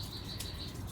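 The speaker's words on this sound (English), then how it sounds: "From all the bird song, you can hear that the birds are loving the weather." Songbirds sing in a mountain garden in spring, giving faint, high chirps over a low background hum in a short, quiet stretch without talk.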